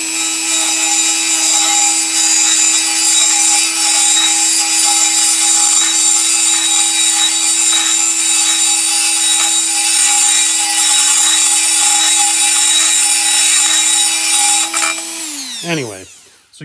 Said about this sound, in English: I've gone after it with the Dremel